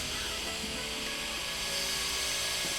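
A steady, loud, broadband roar of an oxygen-fed torch flame blasting continuously, close up, with no talking.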